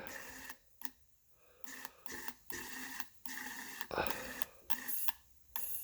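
Short bursts of a fuel injector spraying on a home bench test, hissing and clicking on and off in an irregular series, close and fairly quiet.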